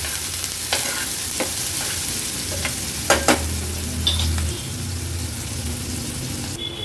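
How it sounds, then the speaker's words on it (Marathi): Onion fries in hot oil with asafoetida in a pan on a medium gas flame, a continuous soft sizzle broken by several sharp scraping stirs of a spoon against the pan. "मीडियम फ्लेम वरच कांदा आपल्याला शिजवून घ्यायचा आहे।"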